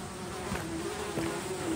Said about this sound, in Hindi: मच्छर ही मच्छर।